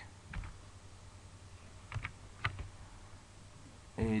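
A few scattered keystrokes on a computer keyboard, faint and close, with long quiet gaps between taps and a brief voice at the end.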